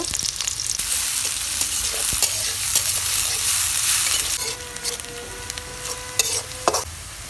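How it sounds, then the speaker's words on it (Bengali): Onions hit hot oil in a wok and fry with a loud, steady crackling sizzle, broken by sharp scraping stirs and clicks toward the end. "কড়াইয়ের মধ্যে তেল দিয়ে দিয়েছি তেলের মধ্যে আমি পেঁয়াজ দিয়ে দিব"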